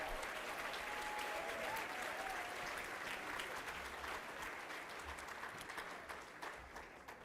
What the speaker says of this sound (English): Let's give all of our honorees another round of applause.